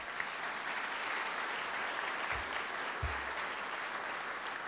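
An audience at an engineering awards gala in the Presidential Palace claps in a steady, even wash of applause, moderately distant and unbroken throughout, with a couple of low thumps.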